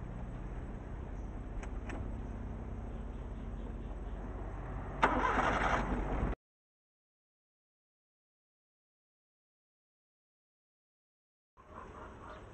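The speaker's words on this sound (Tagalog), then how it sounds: "So ngayon po susubukan natin yung ating starter kung kamusta naman yung kanyang performance kapag tayo nag-start" A Multicab engine turns over on its repaired starter motor, cranking steadily, then surging louder just before cutting off; after a long silence the engine sound returns briefly, with no talk.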